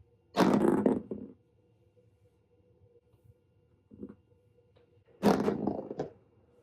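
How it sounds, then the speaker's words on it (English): Twelve-sided dice rattle and tumble across a surface during a tabletop game, in two separate bursts of clattering a few seconds apart with a faint knock between them and near-silence otherwise. "we will roll our 12-sided dice to see how many rolls we will be doing for the month of January"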